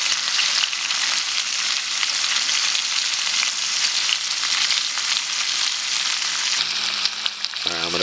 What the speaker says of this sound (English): Got the mountain steak going here.